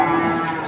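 A cow moos loudly and close by at the Ambarawa cattle market in Indonesia, one sustained low call filling the short moment with no talk over it.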